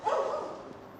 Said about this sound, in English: Oh, puppy dog. 2 puppy dogs, 3 puppy dogs. Whole crowd of them.